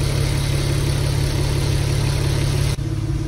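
At a car repair shop, an Audi Allroad with a 2.7 engine runs with a loud, steady, close drone and a low rumble, holding even apart from a brief dip near the end.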